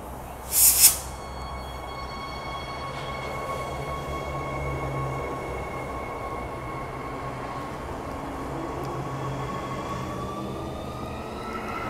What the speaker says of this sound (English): you can see the train curving around like that